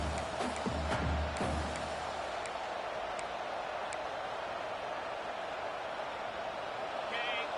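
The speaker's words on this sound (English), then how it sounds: "this big crowd doing everything possible to inspire this defense down here near the goal line" Steady stadium crowd roar from a college football video game, Michigan against Clemson, swelling as the defense lines up near the goal line, a broad continuous wash heard under a commentator's voice.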